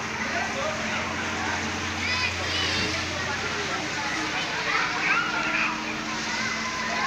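Mountain spring water flowing and splashing at Masuso Spring Resort in Iriga, Camarines Sur, a constant rushing wash mixed with children's voices and people chattering nearby.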